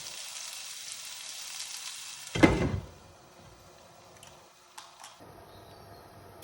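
Vegetable bhaji with potatoes frying in a pan, a steady sizzle that cuts off as a lid clatters on, then a muffled quieter simmer with a few light ticks and knocks.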